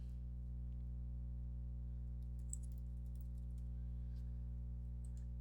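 Typing on a computer keyboard: faint, scattered key clicks over a steady, loud low electrical hum that runs throughout.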